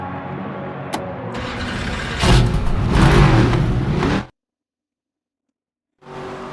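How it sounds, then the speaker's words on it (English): ARCA Series race cars at Rockingham in the NASCAR 25 video game cranking up and revving, a steady engine drone that surges louder midway, cuts to silence, then returns briefly. "Drivers, start your engines!"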